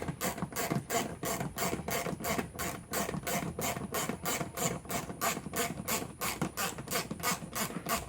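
A 10mm socket ratchet tightens a headlight bolt on a 2010–2012 Kia Soul, giving a fast, even run of sharp metallic clicks, about three per second, close and alone for the whole stretch.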